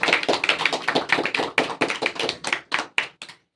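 A round of hand clapping in a tenth-grade Hindi class: a close, brisk run of distinct claps in an uneven rhythm that thins out and stops, leaving silence.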